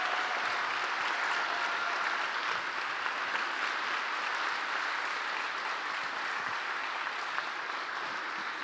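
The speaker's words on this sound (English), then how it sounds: "And extra applause to Denise, who had the idea to bring this event here." Sustained applause from a closing-ceremony audience at a FOSS4GE 2024 open-source geospatial conference, a dense steady wash of many hands clapping at even loudness throughout, with no voices over it.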